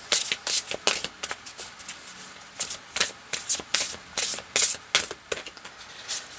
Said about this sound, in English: let's pull out a few cards.